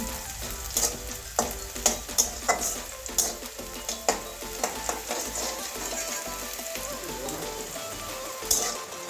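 Onion and garlic fry in a pan for an aubergine bharta, a steady loud sizzle broken by repeated scraping stirs at a fairly regular pace throughout.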